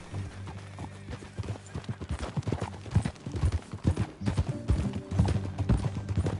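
Horse hooves clip-clop steadily at a riding gait in Red Dead Redemption 2, loud and close, with an occasional whinny and low background rumble.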